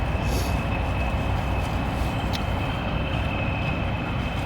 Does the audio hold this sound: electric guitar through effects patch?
no